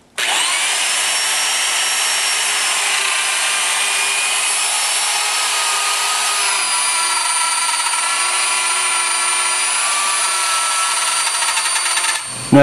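An electric router cuts material in one long pass, a steady high-pitched whine that runs unbroken and loud for about twelve seconds before stopping abruptly.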